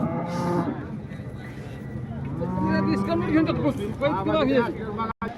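Cows at a busy cattle market in Modnimb, lowing repeatedly and loudly at close range over a constant crowd babble, with people talking throughout.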